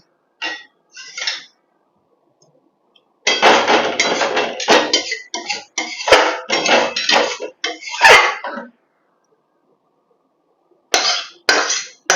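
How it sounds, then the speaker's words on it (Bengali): Pots and serving utensils clink and scrape in bursts while kadhai paneer gravy is served and poured, with clusters of clatter separated by short silences, close and fairly loud. "এরপরে গ্রেভিটা আমি একটু ঢেলে দেবো"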